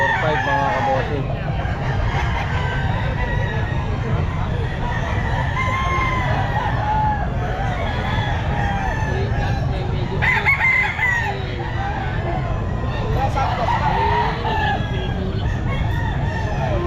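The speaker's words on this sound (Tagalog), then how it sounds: "Hindi, marami sa manok." Roosters crow and cluck over a busy, noisy pet market on a Sunday, several long calls rising out of a constant crowd murmur, with voices talking throughout.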